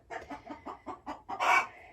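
Broody hens in a coop, including a Sumatra, give a quick series of about eight close, rhythmic clucks ending in a louder drawn-out squawk.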